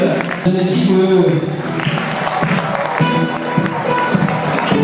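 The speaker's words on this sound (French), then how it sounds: "On l'applaudit, mesdames et messieurs, Raoul." Applause and crowd noise fill the space at a beauty pageant, with a voice talking over the clapping throughout.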